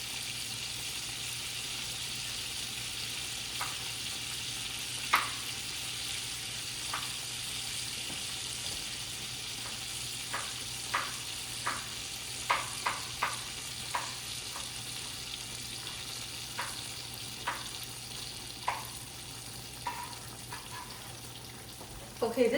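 Shallots sizzle in a hot pan with a soft, steady frying hiss. Sharp utensil clicks and taps recur throughout, and a louder burst comes at the end.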